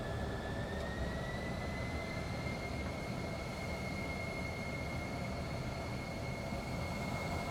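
A small aircraft on the runway for takeoff gives a steady, broadband engine roar with a faint whine gradually rising in pitch, continuous and fairly distant, with no voices.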